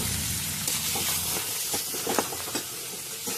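A vegetable with salt and crushed peanuts cooks in steam, a steady hiss with faint sizzling and soft clicks throughout, close and moderately loud, without speech.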